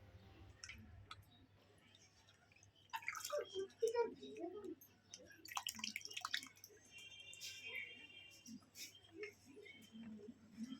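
Cut papaya pieces being washed in a bowl of water, soft close splashes, drips and sloshing in irregular bursts, faint under a quiet background hum.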